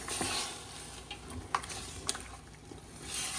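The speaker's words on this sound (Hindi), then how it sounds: "इसको भी हम अच्छी तरह से इसके साथ भून लेंगे।" Beef korma meat frying in masala in a pot, a quiet, steady sizzle with occasional scrapes and clicks as it is stirred, close and soft with no talking.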